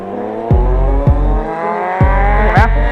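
A Kawasaki Z800 motorcycle converted to ZX8 styling pulls away, its engine revving hard through several quick gear changes, each rev dropping sharply before climbing again, loud and close at first.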